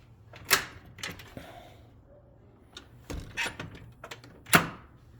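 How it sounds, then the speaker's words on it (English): A raisable door being raised and lowered indoors gives a few sharp clacks and knocks with brief sliding scrapes, spaced irregularly over a quiet background hum. "I have this door here where I can raise and lower it."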